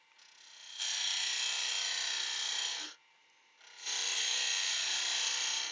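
Bowl gouge taking a cut across an oak bowl spinning on a lathe, a loud steady shaving rasp in two long passes separated by a short quiet break, with no talking.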